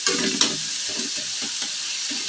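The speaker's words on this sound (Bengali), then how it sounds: "তো আমি পেঁয়াজটা ভালো করে ভেজে নেবো একটু লাল লাল করে ভাজবো" Onions fry in a pan with a steady bright sizzle, broken by a few soft scraping stirs, close and moderately loud with no voices.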